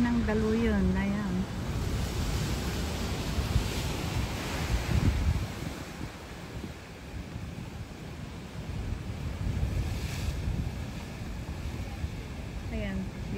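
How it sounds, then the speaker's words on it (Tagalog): Waves surge against the rocks of Cape Collinson bay in a steady, broadband wash with gusts of wind noise across the microphone, and a brief voice or tone is heard near the start. "yung hampas ng daluyon"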